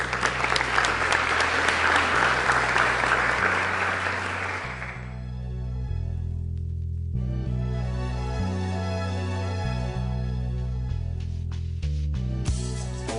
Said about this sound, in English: Please join me with that applause